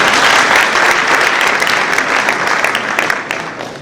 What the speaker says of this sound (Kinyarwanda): abasaba ko mwamukomera amashyi neza cyane